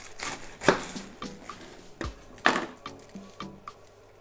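Cabbage being fed into a Silvercrest SGR 150 electric grater, giving irregular crunchy chopping and squishing bursts, close and fairly quiet, with no motor hum standing out.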